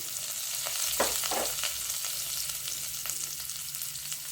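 Curry leaves sizzle and crackle in hot oil during a tempering with mustard seeds, cumin, asafoetida and a broken dried chilli for boondi kadhi, a steady, close frying hiss with a few sharper bursts.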